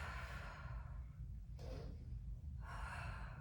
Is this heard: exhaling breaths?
yes